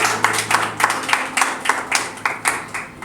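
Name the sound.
audience clapping at poetry open mic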